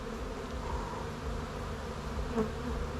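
Honey bees buzz at a hive in a dense, continuous drone close by, a steady swarming hum with no talking.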